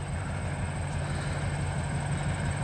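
ELS 1221/502 freight train rolling north on the main line, a steady, continuous low rumble of rail cars passing close by with a constant hum and no voices.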